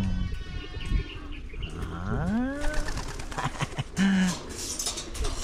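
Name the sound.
pigeons cooing in loft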